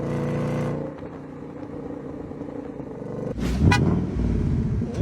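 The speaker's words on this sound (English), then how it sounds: "The exhaust sounds mean." Ford Mustang Dark Horse V8 exhaust rumbling steadily at close range, then a sharp, louder rev burst midway that settles back into a deep, throaty idle.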